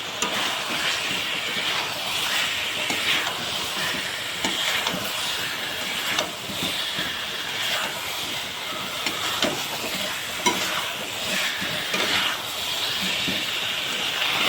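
Potatoes sautéed in a pan for a Bengali potato dom, a steady close sizzle and hiss that runs unbroken with faint scraping and stirring textures, no talk.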